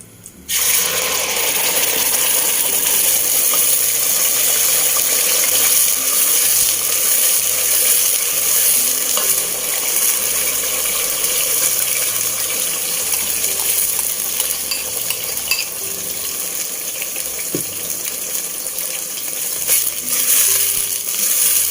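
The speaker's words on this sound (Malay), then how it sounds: "bila minyak sapi ni dah cair dan panas, kita boleh tumiskan bahan kisar kita tadi" Blended onion, ginger and garlic paste sautéing in hot melted ghee for kacang phool, a continuous close, crackling sizzle with bright spattering and occasional small pops, steady throughout.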